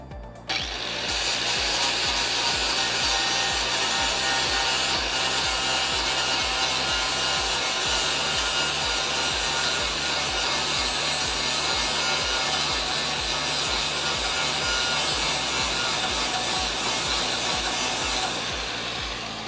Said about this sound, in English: Once again, with the flap disc, guys, it's loud, so headphone users, just be advised, this thing is loud.